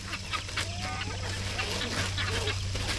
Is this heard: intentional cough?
no